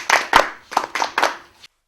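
A classroom of students claps for the boys in a grammar lesson, about five or six distinct, loud claps in an uneven rhythm before stopping abruptly.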